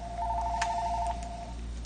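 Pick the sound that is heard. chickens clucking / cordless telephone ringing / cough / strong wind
cordless telephone ringing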